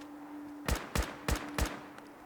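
Four evenly spaced, punchy weapon shots ring out in Fallout 4, each a sharp crack with a low thump, over a faint steady hum.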